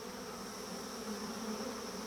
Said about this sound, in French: Les Apis dorsata sont des abeilles géantes migratrices qui vivent dans le sous-continent indien.